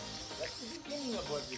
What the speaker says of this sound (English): Now we're going to spray the wrinkle black on the intake manifold.